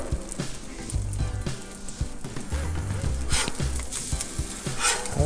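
An egg frying on a hot Blackstone griddle, with a steady sizzle and crackle running throughout, close and moderately loud, plus occasional scrapes and light clatter.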